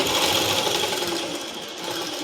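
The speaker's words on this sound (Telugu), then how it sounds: "చిన్న మీ కుట్టు వేసుకోవాలి ఇట్లా." A sewing machine stitches a boat neck top in a fast continuous whir, close and steady for a couple of seconds, with no talking.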